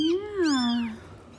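Mother cat giving a single clear, close meow that rises and then falls in pitch and tapers off, with a faint breathy tail afterward.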